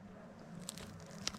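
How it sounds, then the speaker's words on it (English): Someone bites into crispy potatoes from a Kershaws frozen chicken dinner, giving two or three faint, short crunches in quick succession against a quiet room. "You hear that? That crunch."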